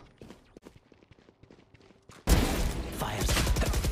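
Rapid gunfire from a weapon in the video game Valorant, a loud burst of shots starting abruptly partway through and continuing to the end, after a quieter stretch of soft footsteps and small clicks.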